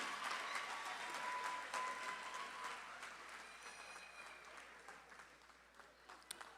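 Sustained applause from a seated crowd at a vocational institute commencement ceremony in New Providence, steady dense clapping that slowly thins toward the end.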